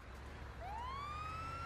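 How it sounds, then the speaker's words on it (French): A vehicle siren starts partway through and rises in a smooth, loud, sustained wail over low engine rumble. "mettez la sirène, mettez la sirène."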